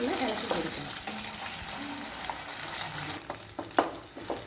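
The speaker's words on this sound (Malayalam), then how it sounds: "ഇങ്ങനെ നമ്മൾ മുട്ടയൊക്കെ നന്നായിട്ടൊന്ന് ചിക്കിയിട്ടുണ്ട്" Eggs scramble in a frying pan with moringa leaves and mustard seeds, a steady close sizzle of frying broken by scraping stirs toward the end.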